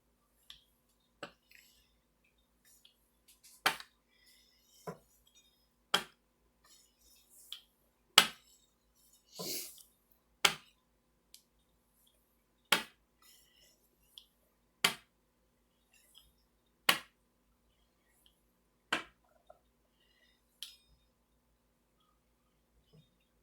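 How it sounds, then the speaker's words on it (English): A pizza cutter slicing homemade pasta dough: sharp, isolated clicks and taps of the wheel on the board, about one every two seconds, quiet and close against near silence. "I'm just going to cut this all up using my pizza cutter"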